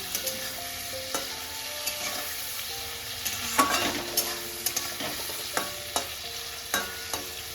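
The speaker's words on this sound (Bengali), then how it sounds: "চিংড়িটা বেশি ভাজবো না, একটু হালকা করে ভেজে নেব।" Prawns sizzling lightly in a hot pan for a bottle gourd and prawn curry, with a steady crackle of frying and repeated scrapes and taps of a stirring spoon against the pan.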